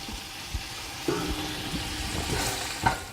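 Meat pieces browning in a frying pan for couscous, a short steady sizzle broken by a few clinks and knocks of utensils against the pan, close and fairly quiet.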